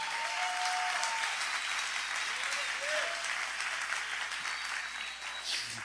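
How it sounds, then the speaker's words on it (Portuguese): Worshippers in a church service clapping for God, a loud sustained wall of applause from a large congregation, with faint musical tones and crowd voices mixed underneath. "Aplauda o Senhor por isso."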